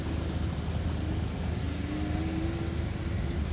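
A race car on a circuit at a roll-in track meet, its engine droning steadily with a rising pitch as it passes at moderate distance, heard alone without talk.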